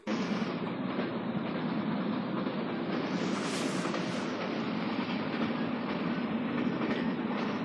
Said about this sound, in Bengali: দারুণ গতি এই ট্রেনের